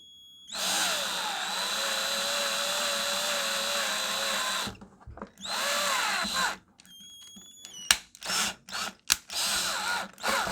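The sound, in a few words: electric drill drilling holes in plastic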